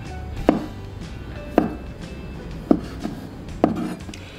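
A knife chops through boiled straw mushrooms on a board in four crisp, evenly spaced cuts about a second apart, close and clear over quiet kitchen background.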